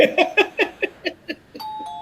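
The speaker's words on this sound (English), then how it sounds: "Somebody's ringing the doorbell." A quick series of chirpy electronic tones pulses rapidly, then a doorbell's sustained chime rings out near the end.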